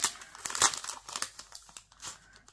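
Close, irregular crinkling and rustling of paper as cutting dies for making boxes are unpacked, with crisp bursts that thin out toward the end.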